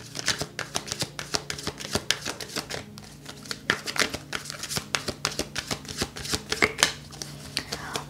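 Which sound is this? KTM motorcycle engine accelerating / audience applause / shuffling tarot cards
shuffling tarot cards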